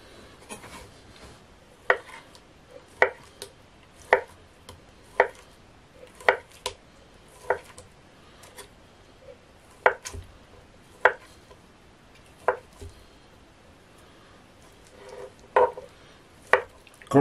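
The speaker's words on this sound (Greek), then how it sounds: "Πάμε να κόψουμε αλαντικά. Θα χρησιμοποιήσω ζαμπόν μπέικον" Knife chopping ham and bacon cold cuts on a board, about fifteen sharp, fairly close cuts at an irregular pace with quiet gaps between them and no talking.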